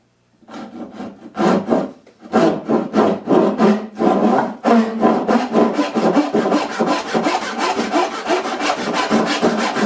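Hand saw cutting through wood while making inlaid dovetail joints, a close, loud rasping rhythm of steady back-and-forth strokes that speeds into quick, even strokes toward the end.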